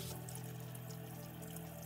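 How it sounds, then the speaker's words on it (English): A kitchen tap runs steadily for hand washing before a turkey is prepared, a faint, continuous stream of water heard up close without talk. "Let's start with washing our hands really good"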